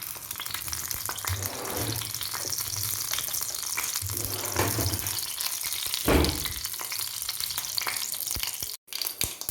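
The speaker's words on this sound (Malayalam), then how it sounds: "കടുക് പൊട്ടി" Mustard seeds popping and sizzling in hot oil with crackles and occasional stirring scrapes, a steady bed of hiss with a few louder bursts.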